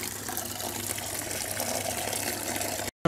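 Water runs steadily and loudly for a goat to drink, a continuous close splashing rush that fills nearly the whole stretch before cutting off abruptly near the end.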